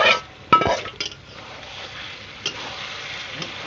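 Chicken masala with spice powders stirred in a pan: a few sharp clinks of a utensil against metal near the start, then a soft steady sizzle and scraping underneath, with no voices.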